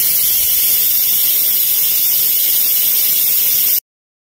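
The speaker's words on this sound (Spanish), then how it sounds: "Ahora vamos a bajar el botón para expulsar el vapor." Instant Pot Duo electric pressure cooker venting steam through its release valve, a loud, continuous harsh hiss that holds steady for nearly four seconds and then cuts off abruptly into silence.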